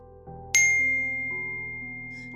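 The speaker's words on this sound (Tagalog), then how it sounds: "Tumunog ang cellphone ko." A cellphone sounds a single bright notification ding for an incoming message. It rings out clearly over a low, quiet background hum and then lingers and slowly fades.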